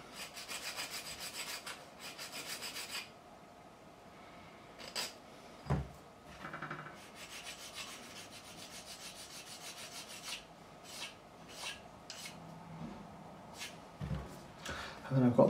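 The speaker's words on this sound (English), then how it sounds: "I'll go to this nice coarse, again another fret leveling file, a beveling file this was." A coarse beveling file rasps across the frets of a 1972 Gibson Les Paul Deluxe P90 during a refret, in bursts of close, scratchy strokes with pauses and a few knocks between them.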